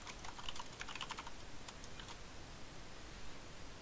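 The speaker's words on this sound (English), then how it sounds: "you have a mechanical keyboard, don't you?" Rapid clicking keystrokes from a mechanical keyboard, clustered in quick bursts early on, then sparser taps over a steady background hiss.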